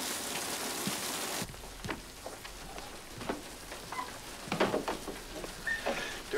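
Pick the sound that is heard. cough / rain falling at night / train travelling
rain falling at night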